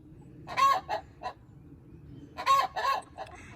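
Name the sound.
cream crested leghorn chicken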